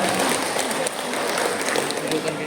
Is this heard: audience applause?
yes